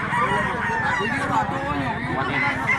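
Young gamecock stags at a busy rooster market in Mantalungon, Cebu, with crowing and clucking fowl mixed into a dense crowd hubbub and nearby talk.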